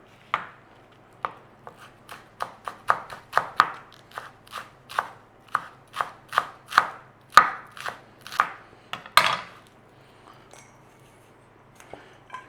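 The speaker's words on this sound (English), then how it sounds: "And we're going to run a knife over." A knife running quickly through baby gem lettuce on a board, a close run of crisp, rhythmic chops that speeds up, then slows to a few scattered cuts.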